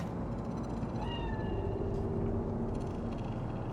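A cat in the video game Cyberpunk 2077 gives a short, clear meow with a rising then falling pitch, heard once over a heavy, steady low-pitched background rumble.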